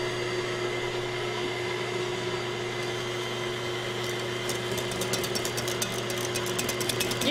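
A microwave oven running while cooking chocolate pudding for a cream pie, a steady close hum with a constant tone throughout and faint rapid ticking toward the end.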